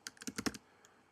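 Quick burst of about six keystrokes on a computer keyboard as a password is typed, crisp and close, followed by a single faint tap and quiet.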